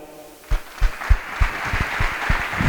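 Scattered, sparse clapping for the photographer Andrea at a photo book launch, a few distinct hand claps at first, then thickening into light, uneven applause from a small group.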